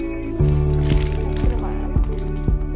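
A spoon stirs sweetened cake batter with sugar and cocoa for a quick microwave mug cake, making about five rhythmic, wet, squishy strokes close up against the cup.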